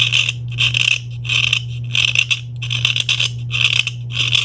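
A knife scrapes a solid, dry resin elephant tooth in six or seven rhythmic strokes, each a harsh gritty rasp over a steady low hum, close and loud.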